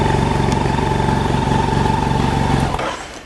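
A BMW F800GS motorcycle engine idles steadily and close by, a constant mid-pitched drone with a faint rattle that drops away near the end of the clip.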